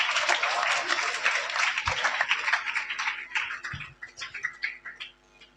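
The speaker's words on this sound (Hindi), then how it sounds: "जोरदार ताली बजा दो भाई मेरे लिए" A school seminar audience claps vigorously, loud dense applause that gradually thins into scattered individual claps and fades out near the end.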